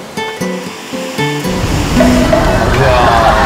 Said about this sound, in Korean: 파도가.